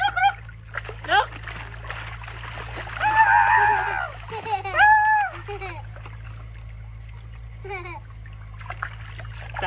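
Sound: monkey splashing while bathing in water

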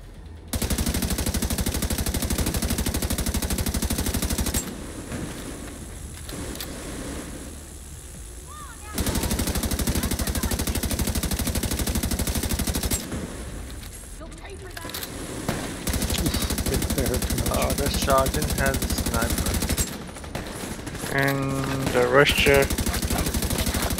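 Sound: gunfire while shooting at a sergeant in the video game The Division 2

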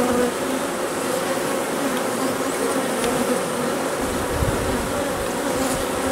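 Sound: bees buzzing at hive

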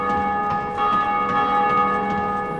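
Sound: bell ringing in the video game Dark Souls

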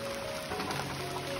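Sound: heavy rain falling outside at night

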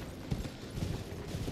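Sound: horse hooves while riding, from video game Elden Ring

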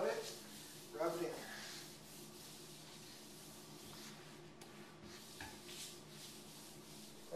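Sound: rubbing sealer into granite countertop

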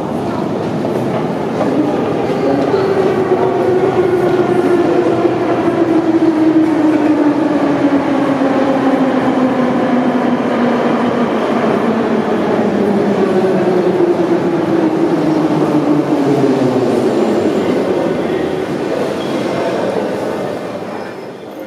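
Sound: metro train in underground station

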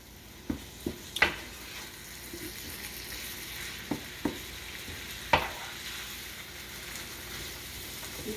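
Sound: ground beef browning in a pan

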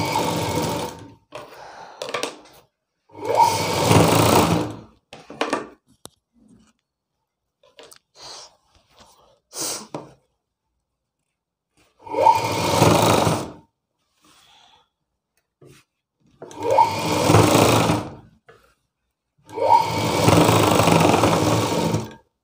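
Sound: sewing machine stitching a blouse's back neck

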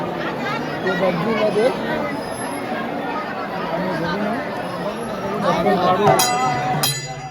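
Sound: crowd of pilgrims at Gangapur Datta temple

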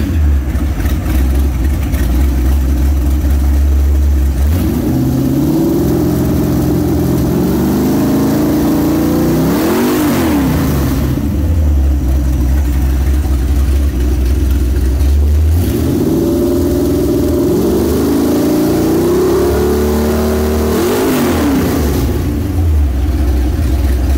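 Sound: Chevrolet 350 V8 engine running in a 1963 Corvette

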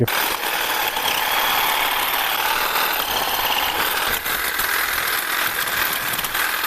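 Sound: Einhell two-battery cordless hedge trimmer, 610 mm bar, cutting

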